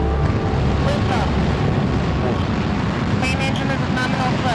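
Space Shuttle main engines roar at liftoff as a loud, continuous rumble that fills the air, with wind buffeting throughout.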